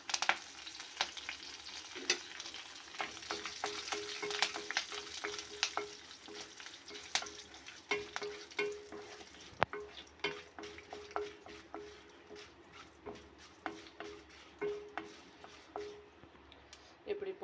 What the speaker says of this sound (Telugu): రెండు ఎండి మిర్చి వేసుకొని కొంచెంగా శనగపప్పు ఆవాలు జీలకర్ర కరివేపాకు